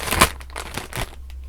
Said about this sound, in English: Sorry about the noise of the bag.